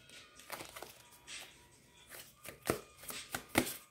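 Tarot cards being shuffled, giving soft riffling swishes and a few sharper snapping clacks in uneven bursts, close and fairly quiet with no talking.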